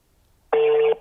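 A single steady telephone dialing tone sounds from about halfway through, loud and close, after a quiet stretch at the start.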